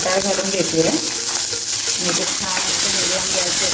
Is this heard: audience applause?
no